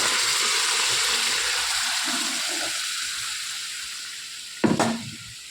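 Pressure-cooked, very soft kidney beans sizzle in a hot karahi with a steady, bright hiss that slowly fades, and a short clatter comes near the end.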